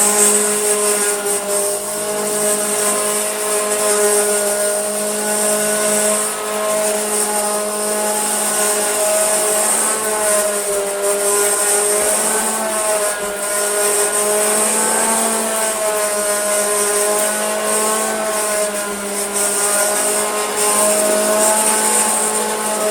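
A Hoover Junior Dirtsearcher 1354A upright vacuum cleaner runs on thin-pile carpet, a loud, steady motor whine with a high hiss and faint pitch wobbles as it is pushed back and forth.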